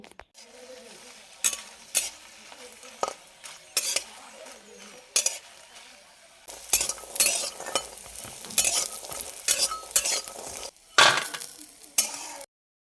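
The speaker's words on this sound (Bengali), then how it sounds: "কড়াইতে একটু তেল দিয়ে ঝাল ভেজে নেব" Chillies frying in oil in a wok, with a spatula scraping and clinking against the pan in irregular strokes over a steady sizzle, close up and with no talking.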